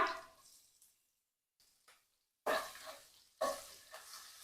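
Cumin, chopped garlic and green chillies frying in hot oil in a pan, with quiet sizzling, a near-silent pause, then two loud bursts of stirring and spluttering.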